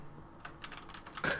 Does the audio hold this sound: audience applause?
no